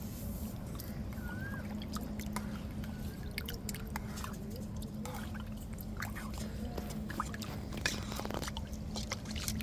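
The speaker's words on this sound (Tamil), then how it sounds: "இப்போ வந்து நம்ம மோரை ஊற்றி நல்லா கரைச்சி எடுத்துக்கிடுவோங்க." Buttermilk is poured into lumpy pearl millet flour porridge and stirred to break up clumps. Soft wet squelching and sloshing continue steadily and close by under a low background rumble.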